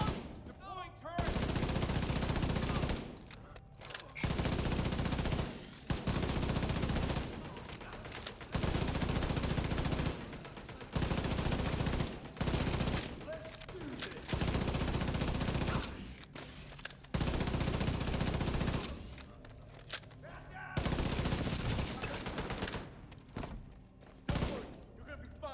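A deployed automatic turret in The Division fires repeated long bursts of rapid gunfire, loud and close, broken by short pauses of quiet between volleys.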